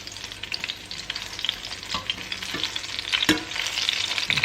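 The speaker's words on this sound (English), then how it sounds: "I'm going to pop these onto the plate now and keep on frying the rest of them up." Fritters sizzle and crackle in hot frying oil, a continuous bright hiss punctuated by sharp pops and spatters, with occasional stirring scrapes, close up and with no talking.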